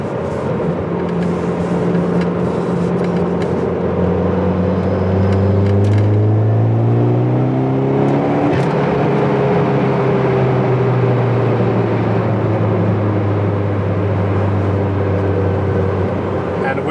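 A tuned Saab car engine with aggressive cams revs, climbing steadily in pitch, loud and continuous, with a rough, lumpy tone as it keeps pulling through the rev range.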